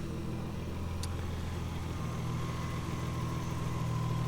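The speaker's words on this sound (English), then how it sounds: "the RB20 engine seems to run really nicely" A 1991 Nissan Skyline four-door with an RB20 engine idles steadily nearby, a smooth low hum holding even throughout with a brief faint click early on.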